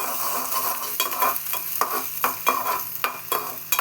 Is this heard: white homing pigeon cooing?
no